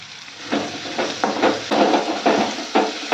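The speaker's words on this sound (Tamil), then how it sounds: "ஒரு 5 நிமிஷத்துக்கு எண்ணெயிலேயே நல்லா வதக்கலாங்க" Sliced radish and a small lump of tamarind sautéing in hot oil for radish chutney, a steady sizzle broken by several scraping stirs of a spoon against the pan.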